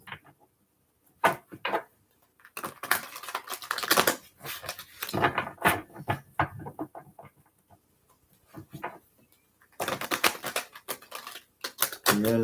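Several bursts of brisk riffling and snapping tarot card shuffles, close and crisp, separated by short quiet pauses.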